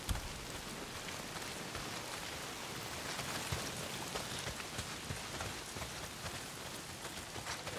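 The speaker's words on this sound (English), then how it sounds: "Well, not if it's pissing down rain" Heavy rain pours down in the video game Days Gone, a dense, even hiss of countless drops striking surfaces that holds steady throughout with no voices.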